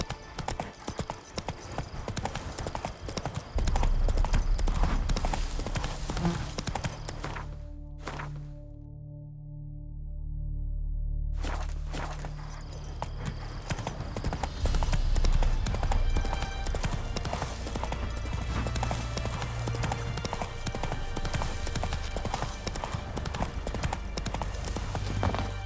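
Horse hooves trot with a quick, even clip-clop in The Witcher 3, close and fairly loud, breaking off for a few seconds of near-quiet before the trotting rhythm resumes and carries on steadily.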